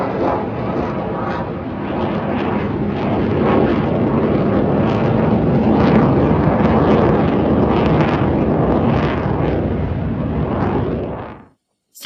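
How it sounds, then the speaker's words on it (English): A jet aircraft flies low overhead near an Air Force base, a loud, continuous broadband roar that swells and holds for about eleven seconds before cutting off abruptly. "Oh, there's a jet, guys."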